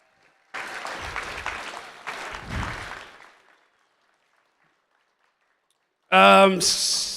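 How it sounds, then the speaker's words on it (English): Audience applause at a high school robotics competition opening ceremony, two bursts of many hands clapping over about three seconds that fade to silence, followed by a loud voice speaking near the end. "We should probably give him another round of applause."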